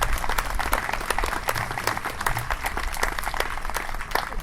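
A concert audience applauds steadily after a band's performance, a dense, sustained wash of many clapping hands filling the room at fairly even loudness.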